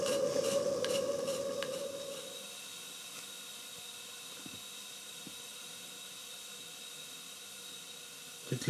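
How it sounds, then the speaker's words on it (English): Steam vents with a loud hiss from a small model steam engine with a 9-inch flywheel, running for the first time in a couple of months. The hiss lasts about two seconds, then fades to quiet hum with a faint clunk at the end. "It let off steam now."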